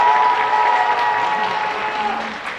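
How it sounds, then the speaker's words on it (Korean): An audience at the Busan International Film Festival applauds during a guest event for the film Broker, steady dense clapping that fills the hall and slowly tapers off. "여러분 박수 한 번만 더 부탁드릴게요"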